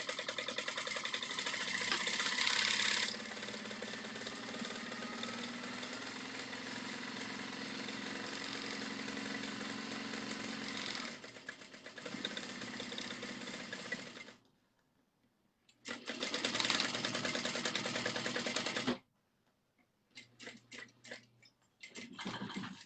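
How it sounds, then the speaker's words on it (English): Sewing machine stitching a mini moto bag, running in long steady bursts with brief pauses, stopping and restarting as it back stitches over the same spot before continuing; close and loud. "I'm going to stitch in the exact same spot, back stitching, and then continuing"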